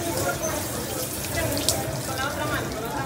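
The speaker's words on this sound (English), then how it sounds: "Great example of laminar flow with water." Water from a laminar flow fountain at Disney's Animal Kingdom in Florida, a continuous splashing, pouring rush up close, with faint crowd murmur in the background.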